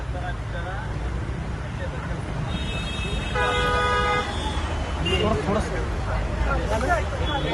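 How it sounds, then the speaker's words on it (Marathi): Car horns honking at a traffic protest in Mumbai, several toots and a sustained blaring horn over a busy street with engine noise and a babble of voices in the background. "प्रशांत, हे गाडी आणि हॉर्न वाजवून आंदोलन मनसेच्या वतीने सध्या करण्यात येत आहे"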